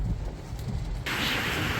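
Strong gusting storm wind buffeting the microphone outdoors in New Zealand, with a steady hiss of rain that gets suddenly louder partway through. Loud and close, with no talking.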